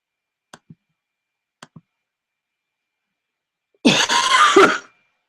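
Two faint clicks, then one loud, harsh cough close to the mic against otherwise silent background.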